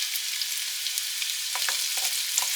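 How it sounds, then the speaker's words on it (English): Carrots fry in a hot pan for quick pickled carrots, a steady close sizzle with a few stirring scrapes near the end and no talking. "Now I add the carrots first because I want them to start cooking before I put the other things in."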